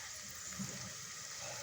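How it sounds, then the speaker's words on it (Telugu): About six glasses of water are poured into a pot of dal and rice for bachelor-style rasam rice, making a short, soft gushing splash that sounds quiet and close. "6 గ్లాసుల నీళ్ళు వేసుకోవాలి."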